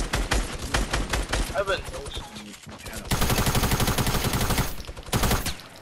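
Rapid bursts of gunfire from a video game, volleys of loud automatic shots that thicken into a sustained barrage midway, with a player talking over the shooting.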